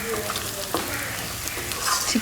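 Spicy chicken pieces fry in a pan with a steady, close sizzle, broken by scraping sounds as they are stirred.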